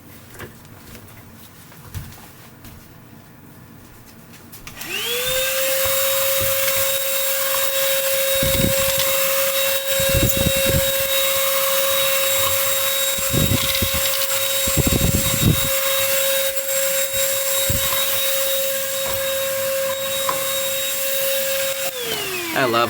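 A budget Milwaukee-compatible cordless vacuum cleaner switches on after a few quiet seconds and runs alone at a steady, loud whine, with a few brief knocks and bumps as it is moved about.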